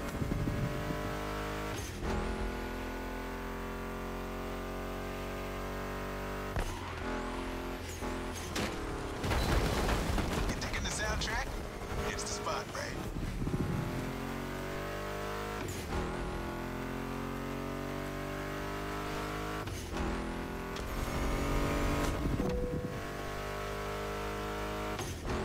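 Race car engines roar and rev through The Crew Motorfest, a driving video game with a timed checkpoint event, with gear shifts and surges blended under a continuous loud music mix.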